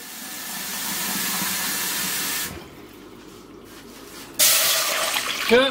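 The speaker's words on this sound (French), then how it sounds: "je vais y mettre de l'eau" Water runs from a tap and splashes into a cooking pot, pausing briefly, then pouring again with a rising hiss as the pot fills.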